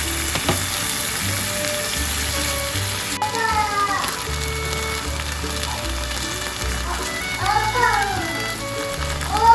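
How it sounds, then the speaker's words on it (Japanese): Sliced lotus root and eggplant sizzle and fry in oil in a pan beside cod fillets, a steady loud crackle with intermittent scraping and clattering of a utensil stirring, plus faint squeaky sounds. "ここでレンコンとナスを加え炒める。"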